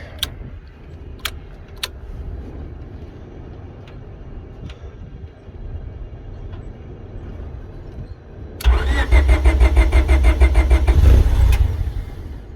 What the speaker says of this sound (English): A little sputter.